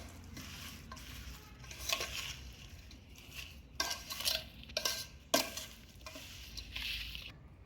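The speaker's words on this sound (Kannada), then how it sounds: "ಎಣ್ಣೆ ಹಾಕಿ ಮತ್ತೆ ಇದನ್ನು ಕಲಸಿ ರೆಡಿ ಮಾಡ್ಕೊತಾ ಇದ್ದೀನಿ." Mango pickle pieces being stirred with oil in a container, with irregular scraping and clinking of a spoon against the vessel, close and moderately loud, no talking.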